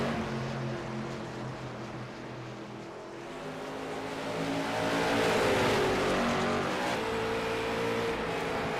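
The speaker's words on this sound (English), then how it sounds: "A 5 flags, green flag is out. We're off and away." Race cars roar away at the green-flag start of a 75-lap race at Five Flags: a dense engine drone that swells and grows louder partway through as the field accelerates, with no talking.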